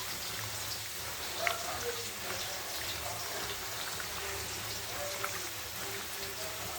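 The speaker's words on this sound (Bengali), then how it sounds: "এই যে আলু ভাজা হচ্ছে" Potatoes frying in a pan in a home kitchen, a soft steady hiss with faint crackles and a few small pops, quiet and continuous, with a low hum underneath.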